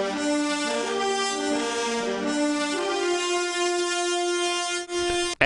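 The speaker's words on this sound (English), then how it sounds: "So the brass sounds like this." Brass section playing the second harmony line of a metal cover solo, held bright horn notes stepping between pitches, full and steady, heard on its own with no voices.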